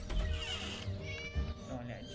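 A cat meows in the Scary Teacher video game, with short mewing calls over steady game sounds while a person talks throughout.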